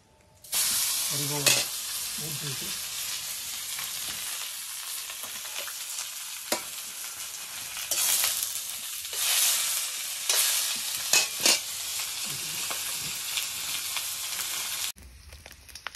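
Pork fries in rendered pork fat in a very hot wok, giving a loud, close hissing sizzle with bursts of spattering and stirring throughout, and a brief pause near the end.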